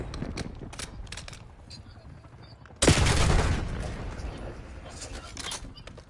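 Gunfire in a PS5 shooter game: scattered shots, then a sudden loud, sustained burst of rapid fire that slowly fades, with voices talking over it.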